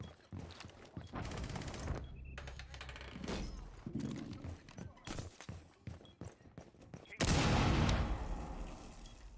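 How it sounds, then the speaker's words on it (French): Barricade being blown up in the video game Rainbow Six Siege, with scattered clattering, gunfire-like bangs and shuffling, then a loud blast near the end, all mixed with background game noise. "ça a fait exploser une barricade"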